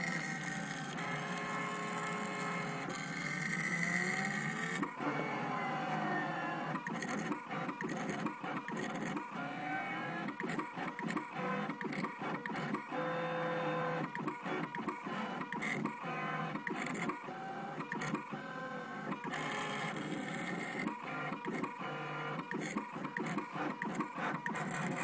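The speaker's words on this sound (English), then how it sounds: "this is the Gravograph IM4 engraving machine" A Gravograph IM4 engraving machine cutting a name plate runs with a busy, whirring mechanical drone, broken by rapid stuttering pulses and short pauses as the cutter moves, steady and close with no speech.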